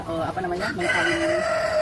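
KUB chickens, an improved native breed developed from local Javanese lines, cluck and crow loudly and continuously at an agricultural research station, with layered calls from several birds close by.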